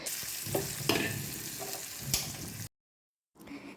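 Shallots, curry leaves and coconut frying in a pan for a pumpkin curry, giving a loud, close, steady sizzle broken by scraping stirs. A brief silence follows before the sizzling resumes.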